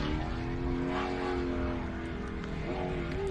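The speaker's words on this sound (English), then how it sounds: "That's obviously a torque converter car by the sounds of that" A drag race car with a torque converter and a 7-litre engine running down the track at a drag strip, a loud sustained engine roar holding a steady droning pitch with a slight shift near the end.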